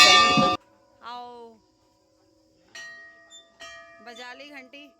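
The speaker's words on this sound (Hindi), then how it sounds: "बजा ली घंटी" A metal bell at Ghorakhal temple, shrine of Golu Devta, is struck once with a loud, bright clang that cuts off quickly, followed by brief voices.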